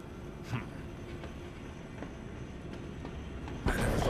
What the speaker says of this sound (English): A train? Trolleys?